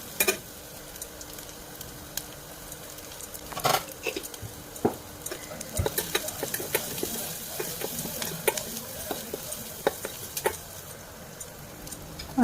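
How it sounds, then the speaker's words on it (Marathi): Finely chopped onion and chili pieces sautéing in a pan for Khandeshi baingan bharit, a soft steady sizzle with occasional spatula scrapes and taps, close but fairly quiet. "मग बारीक चिरलेला कांदा घालू आणि परतून घेऊ।"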